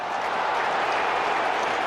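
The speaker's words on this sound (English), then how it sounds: "The ironic round of applause is for Willie Young giving a free kick against Chris Sutton." Ironic applause rising from the crowd at a Kilmarnock v Celtic football match, a steady, distant wash of clapping and stadium murmur with no single claps standing out.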